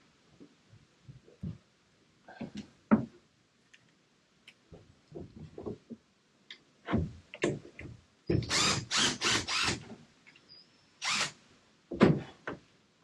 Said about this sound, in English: the first thing I've got to do is just take the bolts out, and there's one screw in there too